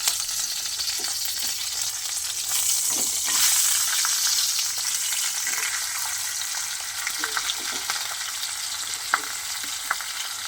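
Fish head and green chillies sizzle in hot oil in a pan, a steady broadband frying hiss with a brief louder surge and scattered small pops and clinks throughout.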